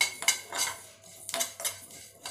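Mustard seeds crackle and pop in hot oil in a pan while masala is fried for a fish curry, giving a run of sharp, close crackling bursts with brief quiet gaps between them.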